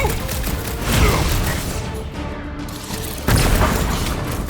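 Bursts of gunfire and heavy booms from a combat scene in the video game Guardians of the Galaxy, dense and loud, with a brief lull midway before another sharp blast of shots.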